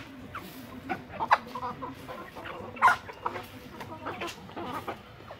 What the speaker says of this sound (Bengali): এগুলো সব আমাদের বাড়ির দেশি মুরগি, আমরা এগুলো ছাইরা পালি